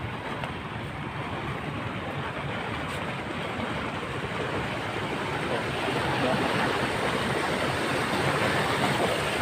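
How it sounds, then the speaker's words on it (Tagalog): Water gushes from an irrigation pump in a strong, continuous roaring rush that grows slightly louder over nine seconds, close and unbroken, with no voices. "Ayan pong kalakas, mga kabantay, ang ating patubig"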